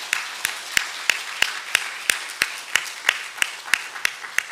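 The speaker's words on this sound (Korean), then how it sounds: "그 하나님을 믿으신다면 박수를 하나 배워 드리겠습니다." A church congregation at a Sunday service claps in steady unison, about fourteen crisp, evenly spaced claps at a moderate tempo, close and loud with a roomy background.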